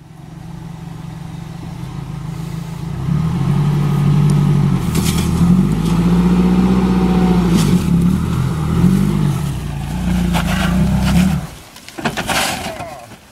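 Engine of a Mitsubishi L300 4x4 van revving hard as it struggles up a steep offroad slope at a test track, a steady loud drone that surges and holds for several seconds, then cuts out abruptly near the end.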